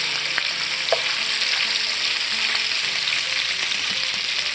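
Sausage sizzles and fries in a pan while being stirred, a steady close hiss of hot fat with occasional pops and light scraping.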